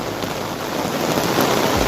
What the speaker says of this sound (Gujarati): ભારે કર્યા વરસાદ